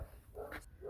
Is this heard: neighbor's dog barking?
yes